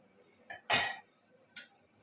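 A utensil knocks a few times against a saucepan while marinated chicken is stirred for kosha: three short, sharp, close clinks with near-silence between them and no talking.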